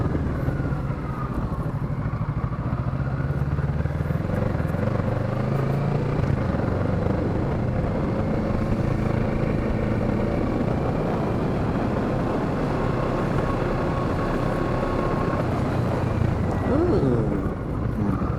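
A Kawasaki Z650 motorcycle ridden on a short loop near a dealership gives a close, steady engine drone whose pitch rises and falls as the rider works the throttle through the gears, with a voice talking over it.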